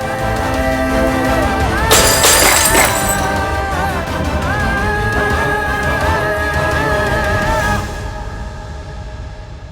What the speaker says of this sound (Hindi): कांच टूटने की आवाज सुनी ना